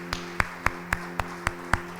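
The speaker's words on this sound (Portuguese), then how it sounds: "Louve o Senhor com as suas palmas" A church congregation claps in praise during a service, steady evenly spaced claps about four per second, with a low sustained hum underneath and no talk.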